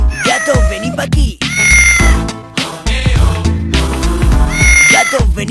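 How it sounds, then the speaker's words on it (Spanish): Close, loud cat meows repeat in a string of long, wailing cries during a Carnaval 2009 event in Navalmoral de la Mata, each separated by brief pauses, with no voices heard. "Gato, vení pa' mí."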